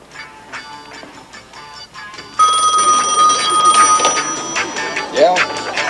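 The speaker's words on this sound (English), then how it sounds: "Harry, Marvin on the phone" A telephone rings in a 1974 comedy TV movie, a steady bell-like ring that starts partway through and stays loud over background noise.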